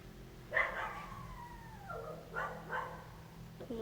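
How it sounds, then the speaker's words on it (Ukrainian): A dog outdoors lets out a sharp bark that slides into a whining howl, followed by a couple more yips at moderate distance. "собака на вулиці гавкає"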